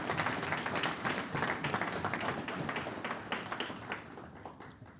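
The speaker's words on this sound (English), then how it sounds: "let's give Justin Brock and Bobby Brock Insurance a huge round of applause for throwing such an awesome event" Applause from a seminar audience after an insurance agency's event introduction, a dense steady wash of many hands clapping that holds strong for several seconds and then begins to thin and fade toward the end.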